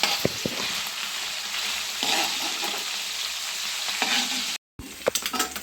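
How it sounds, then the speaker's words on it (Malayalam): Prawns with coconut pieces frying in a pan for a Kerala-style fry, a loud steady sizzle with stirring scrapes, a brief cut to silence near the end, then a few clattering taps. "ഇപ്പോൾ നമ്മുടെ കൊഞ്ച് ഫ്രൈ ഏകദേശം ഫ്രൈ ആയി"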